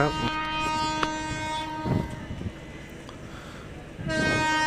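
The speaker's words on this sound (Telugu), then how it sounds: "పక్కన ట్రైన్ అయితే వెళ్తుంది" A train runs alongside a halted one at Kovvur railway station, its steady rumble and rail noise joined by tonal horn-like notes, with short bursts of louder clatter and a faint voice now and then.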